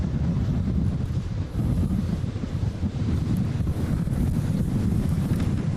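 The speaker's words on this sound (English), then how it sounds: "I'm waiting for this wind to stop." Strong, steady wind gusts of around 30 mph at Honolulu airport in Hawaii buffet the microphone with a constant low roar and no clear breaks.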